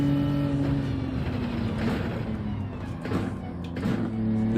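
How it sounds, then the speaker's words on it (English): A car on a lap of the Yas Marina circuit, its engine revving out and climbing in pitch, with gear changes and road noise, heard from inside the cabin at moderate level. "Oh, sorry, I revved it out there, force of habit."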